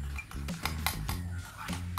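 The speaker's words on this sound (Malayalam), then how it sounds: "ഷേവിംഗ് ഫോം കൂടി ഇട്ടിട്ട് നന്നായിട്ട് ഇളക്കി" A homemade slime mixture with shaving foam is stirred in a bowl, giving close scraping and clinking of a utensil against the container in a quick, uneven rhythm.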